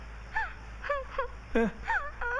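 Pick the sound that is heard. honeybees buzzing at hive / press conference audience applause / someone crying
someone crying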